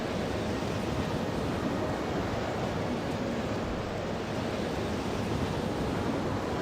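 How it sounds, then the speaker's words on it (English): Steady wind blows through the Elder Scrolls Morrowind game world, a constant broadband whoosh with no breaks, fairly loud and heard alone. "Sure is getting windy, huh?"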